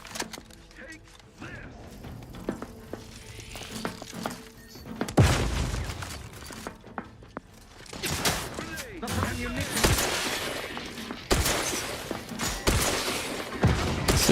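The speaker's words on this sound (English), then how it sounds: "Grenades coming through that doorway" Grenade blasts and gunfire in The Outer Worlds 2 land as several heavy, loud bursts with rattling volleys between them. Talk runs underneath.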